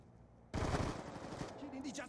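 Gunfire in the video game Black Ops 2 bursts in suddenly after a quiet half second, a loud, dense rattle of rapid shots that carries on to the end with some faint voice mixed in.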